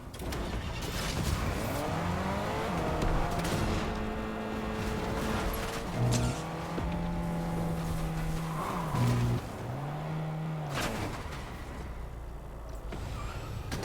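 Car driving in the Fortnite video game, a continuous engine drone rising and falling in pitch as it accelerates and shifts, with tire squeals and mechanical creaks.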